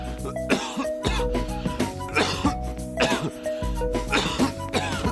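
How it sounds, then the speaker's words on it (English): A person coughs and clears their throat several times in rough bursts, close and fairly loud, over a steady low hum in the background. "Someone's got a cough."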